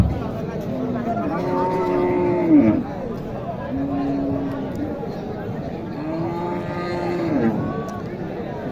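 At a cattle market in Naogaon, where Sahiwal cows and calves are sold, several long, harmonic moos sound close by. They rise and fall over steady crowd and market noise.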